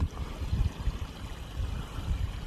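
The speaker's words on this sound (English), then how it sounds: "It's not often you see a natural Florida waterfall, but this is what one looks like." A small natural waterfall on Florida's Econlockhatchee River in a state forest gives a steady, low rushing and gurgling flow, continuous and moderately faint, with no talk.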